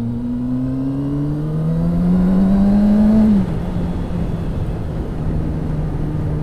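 A car pulling away from traffic lights, its engine note climbing steadily through one gear for about three seconds, then easing off into a lower steady drone, heard from inside and fairly loud.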